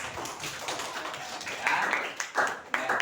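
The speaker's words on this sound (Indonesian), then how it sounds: "Tepuk tangan untuk Kaila dong" A classroom of students clapping for a classmate, a brief burst of dense hand claps that swells and then breaks off.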